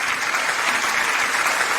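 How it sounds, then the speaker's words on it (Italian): A studio audience on an Italian radio-TV show claps steadily as a guest returns to the stage, a dense, even wash of applause with no talk over it. "Facciamo un applauso al nostro Peppe che torna qui."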